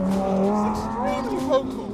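A Lamborghini Huracan STO engine screams at high revs close by, a steady sharp wail rising and falling briefly over two seconds, with people talking over it.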